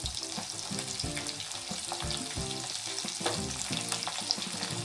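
Ginger, garlic and chili pieces frying in a pan for matar cutlets, a close, steady crackling sizzle with rhythmic stirring scrapes throughout and no talking.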